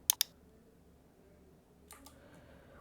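Two quick, sharp mouse clicks come close together at the start, followed by a quiet stretch and a couple of softer clicks near the end against faint room hum.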